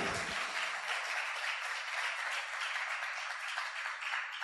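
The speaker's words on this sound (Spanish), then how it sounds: "Denle un aplauso al Señor." Church congregation clapping during a sermon, a fairly faint but sustained wash of applause that holds steady for several seconds with no voices over it.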